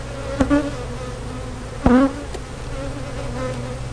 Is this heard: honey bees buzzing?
yes